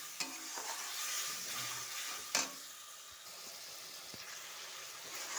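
Turmeric and Kashmiri chili powder with a splash of water sauté in a pan, giving a soft continuous sizzle and hiss broken by a few sharp spatula scrapes and taps, with no voices.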